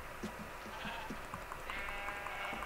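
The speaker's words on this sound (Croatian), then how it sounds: "Ove ovce pasu pod ručnom." Blocky Minecraft sheep bleat again and again across a game soundtrack, short overlapping baas coming in a loose, irregular stream at moderate volume with no talking.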